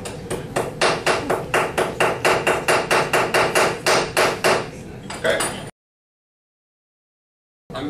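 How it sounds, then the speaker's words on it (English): A rapid series of sharp hammer strikes smashing crystals, about twenty even blows, loud and close, then an abrupt silence. "I'm going to smash it with a hammer"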